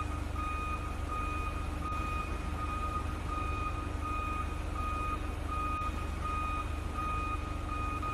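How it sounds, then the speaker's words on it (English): Steady, evenly spaced reversing beeps from a forklift in a virtual reality training simulation, repeating alone over a constant low engine hum. "Then use reverse switch to reverse the forklift."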